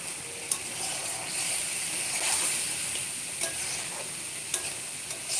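Potatoes and spices for a jackfruit curry sizzle steadily in a pan. A constant close hiss is broken by a few sharp crackles and pops, with no talking.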